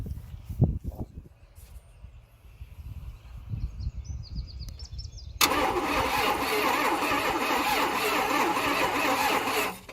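Dodge Ramcharger engine cranking over after sitting long in weeds, a steady loud mechanical churn kicking in midway after quiet rustling and faint clicks.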